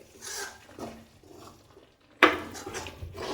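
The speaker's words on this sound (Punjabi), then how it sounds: "ਉਧਰ ਅਸੀਂ ਇੱਕ ਫਰਾਈ ਪੈਨ ਰੱਖਤਾ" A frying pan set down with a sharp metallic clank after a few faint quieter kitchen rustles, close by, before roasting cashews and almonds.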